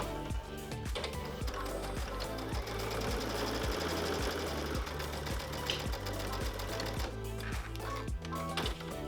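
A sewing machine stitches crazy-patchwork quilt wedges in quilt-as-you-go style, running as a steady, close whir with a rapid, even needle rhythm throughout and no pauses.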